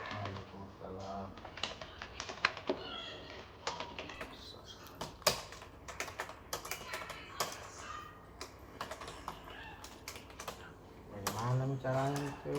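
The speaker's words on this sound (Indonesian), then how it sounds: "Kita bicara sambil mengetik." Fingers tap steadily on a computer keyboard, a busy run of quick, close clicks and clacks that goes on under a voice as he speaks.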